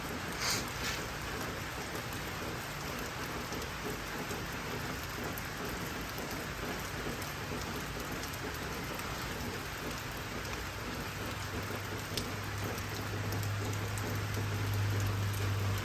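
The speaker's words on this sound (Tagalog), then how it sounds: "Ulan." Steady rain hisses on surfaces throughout, dense and even, with a low rumble building near the end.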